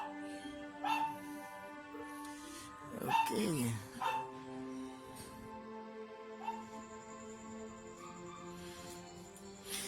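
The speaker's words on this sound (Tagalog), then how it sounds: "pati yung aso nakikisama" A dog barks and whimpers outdoors at night during a telescope viewing of the moon, with a few short yelps breaking in and out while people talk.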